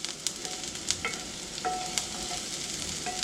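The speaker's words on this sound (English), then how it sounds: "We're just going to let them saute a little bit there in that nice sweet butter" Chopped celery, green pepper and green onions sauté in butter in a cast iron pan, giving a steady close sizzle with occasional light clicks and scrapes from stirring, and no talking.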